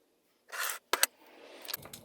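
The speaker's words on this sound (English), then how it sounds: "And then cut them up into" Vegetables are cut into little pieces for vegan crock pot baked beans: a few short, crisp cutting bursts, followed by softer scraping and rustling up close.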